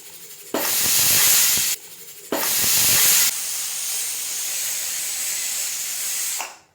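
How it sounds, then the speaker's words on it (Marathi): A pressure cooker of masoor pulao lets off two loud, sharp bursts of hissing steam, then a long, steadier whistle-like hiss that cuts off at the end. "आता आपल्याला या कुकरला 2 शिट्ट्या करून घ्यायच्या आहेत"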